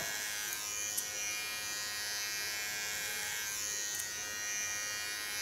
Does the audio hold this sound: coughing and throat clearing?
no